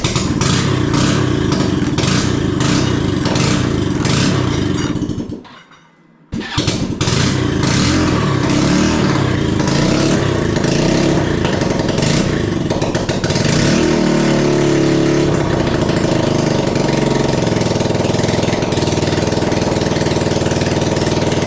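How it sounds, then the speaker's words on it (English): A small buggy's engine found in a barn runs loudly up close, a rough buzzing idle broken by a brief cut-out, then restarting and revving up and down in uneven bursts. "sounds great. At least the engine seems to work."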